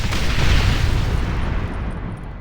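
A heavy explosion in Red Dead Redemption, a deep rumbling blast that rolls on and slowly fades, loud and dominating the moment.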